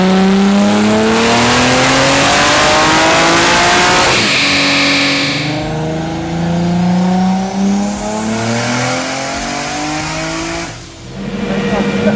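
A boosted 1000HP BMW E36 M3 with a DCT transmission, running a fresh tune on its second boost setting, revs hard and loud through rising and falling engine sweeps, with a brief dip near the end before the engine picks up again.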